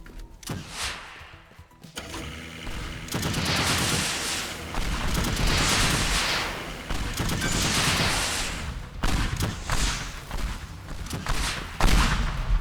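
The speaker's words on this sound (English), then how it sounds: "then I fire tank. And then I fire rockets." Tank cannon and rocket fire in the destruction game Teardown, heavy bursts of blasts and explosions rolling one after another with rumbling debris, loud and sustained across the whole stretch.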